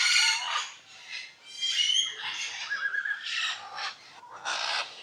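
Assorted birds at Macaw Mountain bird park call in a series of harsh, raspy squawks and shrieks, loud and close, with short pauses between bursts and no talking.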